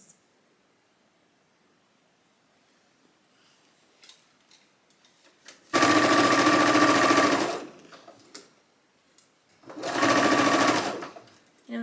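A sewing machine stitches a collar into a blouse with a 1/4 inch seam allowance, two loud steady runs of a few seconds each separated by quiet handling clicks.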